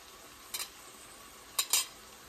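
Turmeric being stirred into keto chilli con carne in a pan over a low flame: two or three brief, soft scraping strokes of a spoon, separated by quiet pauses.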